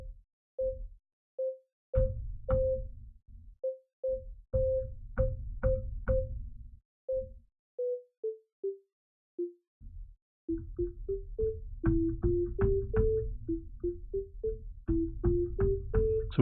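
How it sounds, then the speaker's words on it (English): Short synthesizer notes are played on a MIDI controller, with gentle single tones repeating at varying loudness, over a low buzzing background noise and clicking key presses, later denser and louder. "I'll hit middle C kind of gently."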